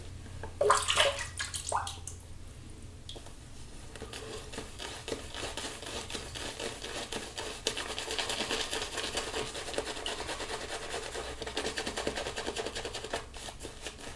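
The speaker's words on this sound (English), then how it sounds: "I'm gonna add just a touch more water" Tap water running into a sink during a wet shave, a soft steady trickle with a few brief splashes near the start, continuing alone at low level.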